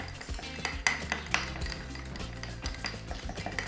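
Metal spoons clink and tap against bowls of royal icing, a few sharp bright clinks among softer scraping and clattering, close and alone.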